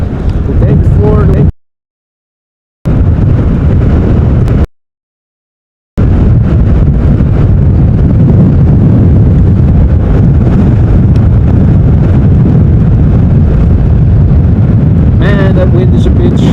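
Strong storm wind pounds the microphone beside an airport runway at Amsterdam Schiphol, a loud, continuous low rumble broken by two short silent gaps, with faint engine whine near the end.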